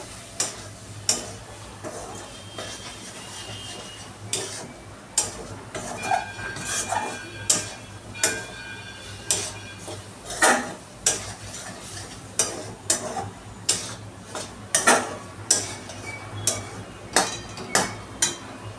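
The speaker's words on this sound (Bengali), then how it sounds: "দিয়ে দেবার পর এটা আমি আবার নাড়াচাড়া করব।" A potato and soy nugget curry is stirred in a pan, and a spoon scrapes and knocks in a steady rhythm of sharp repeated strokes over a low background hum.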